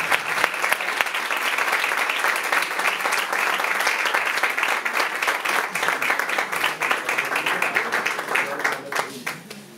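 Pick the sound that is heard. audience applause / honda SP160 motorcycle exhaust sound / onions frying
audience applause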